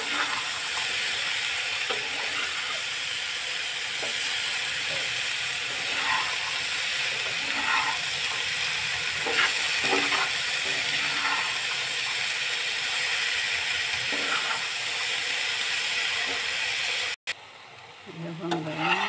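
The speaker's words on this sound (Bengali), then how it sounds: "আমার করলা ভাজি হচ্ছে" Bitter gourd fries in a pan with a constant bright sizzle and hiss, broken by occasional stirring clatter. The frying stops abruptly near the end, where a few sparse sounds follow.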